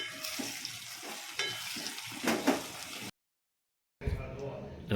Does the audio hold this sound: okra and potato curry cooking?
yes